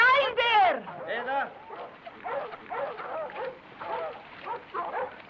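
Dogs whine, yip and bark in an outdoor search scene from a 1972 horror film, with a high whining cry at the start, then repeated barks and yelps mixed with talk.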